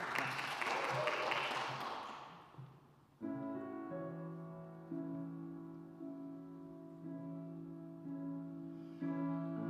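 Brief applause from an opera audience at a Madama Butterfly preview, loud and broad for the first few seconds, then fading as sustained orchestral and vocal music takes over.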